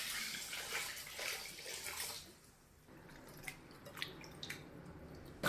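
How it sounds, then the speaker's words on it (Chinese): Clean water is poured from a tap onto broken pieces of dried tofu skin in a bowl, a splashing rush for about two seconds, then quiet with a few sharp drips and small clinks. "干腐竹掰成一小节一小节， 加上清水提前泡发。"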